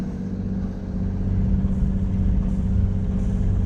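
An inboard engine on a Bavaria 41 sailboat motoring through a windless fjord runs steadily, with a low droning hum that grows slightly louder after the first second and carries on evenly, with no talk.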